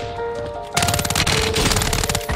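SMG gunfire in Call of Duty: Modern Warfare 3, a rapid sustained burst that starts abruptly after a quieter moment and rattles loudly and continuously to the end.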